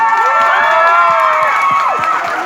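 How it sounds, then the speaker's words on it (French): A crowd at a concert cheers loudly, with high shouts, whoops and scattered clapping forming a dense, sustained roar close by. "Un tonnerre d'applaudissements pour vous-même"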